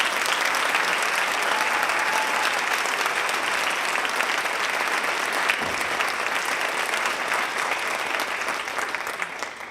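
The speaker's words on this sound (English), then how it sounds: "Give yourselves a round of applause." New citizens at a naturalization ceremony give themselves a round of applause, a loud, sustained wash of dense clapping from a large crowd that holds steady for nearly ten seconds and eases only slightly at the end.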